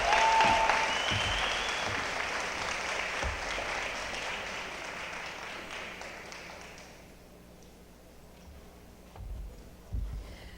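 A college audience at a Women's History Month celebration applauds warmly, a dense round that fades out after about seven seconds and leaves quiet room noise with a few faint knocks.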